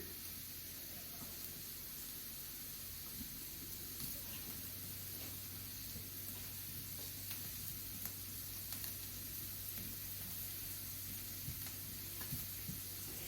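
Salted diced white radishes fry in a pan with a steady, soft sizzle and faint crackles throughout, with no one talking.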